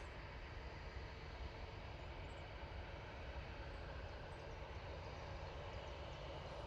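A TUI airliner at Manchester Airport gives off a distant, faint, steady engine rumble that holds evenly throughout with no voices.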